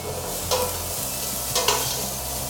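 Half a cup of chopped onion frying in oil while being stirred for a chicken and wild rice soup, a constant close sizzle with two brief scraping stirs of a spoon against the pot.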